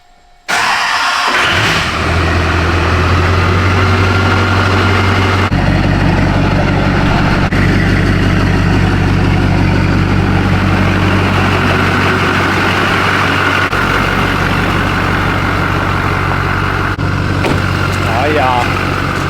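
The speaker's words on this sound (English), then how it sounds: "let's start her up, and I'll let it sit in idle for a little bit." A Duramax diesel engine cranks and starts, then settles into a loud, steady idle with a low rumble that runs for many seconds, close to the microphone.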